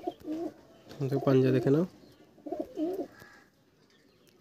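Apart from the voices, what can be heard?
pigeon cooing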